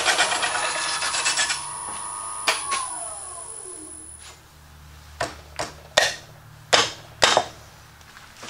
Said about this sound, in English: where it was scraping end grain and still maintained its edge, the perfect application for carbide